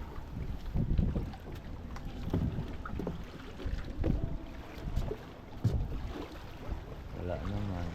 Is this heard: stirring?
no